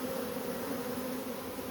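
A swarm of honey bees drones in a faint, continuous low buzz, steady and even with no other sounds.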